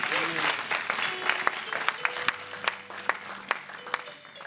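A church congregation applauds and cheers during a prophetic worship service, scattered close claps and voices rising under a preacher's continued speaking.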